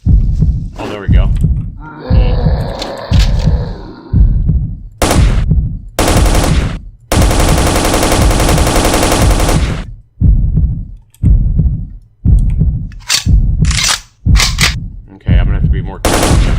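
Rapid bursts of gunfire from a cheap budget video game, loud and repeated in short volleys with one long sustained stretch of firing, while someone comments between and over the shots.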